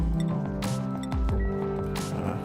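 Wet squishing, dripping and glassy clinks come from a bottling action in the colony game Oxygen Not Included, with layered tonal game effects and an underlying hum, loud and steady throughout.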